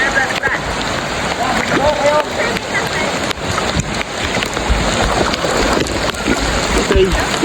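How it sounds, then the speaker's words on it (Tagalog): Rain falling during water tubing, a dense continuous patter on water and surfaces with wind and splashing, loud and close, with voices talking over it. "Ay, ulan na."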